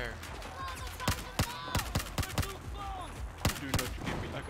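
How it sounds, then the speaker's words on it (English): Rapid, irregular bursts of gunfire in the Battlefield 4 campaign crack close and loud over several seconds, layered over a continuous battle din. "Who's shooting us?"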